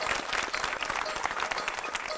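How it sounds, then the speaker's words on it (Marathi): Studio audience on a Marathi TV game show applauds steadily, a dense wash of many hands clapping at even strength throughout, with no clear voices over it. "टाळ्या वाजवून शुभेच्छा देऊया."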